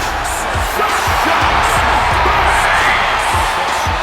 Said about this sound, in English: the crowd roars once again.